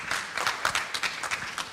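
Conference audience in Berlin clapping, a moderately faint patter of scattered hands with uneven bursts, brief and fairly distant.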